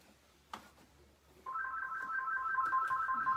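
A telephone ringtone starts suddenly and keeps repeating in a steady warbling electronic pattern. It rings alone and fairly quietly, after a brief faint knock.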